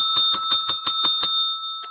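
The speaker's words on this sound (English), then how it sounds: "I got a bell." A livestream super chat alert bell rings out in a quick run of about eight bright metallic dings, close and loud, then one last softer ding after a short pause.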